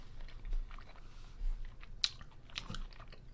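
Cold leftover chicken wing being chewed close to the mic, with a few soft bites and crunchy snaps, one sharper crack standing out, against quiet room noise.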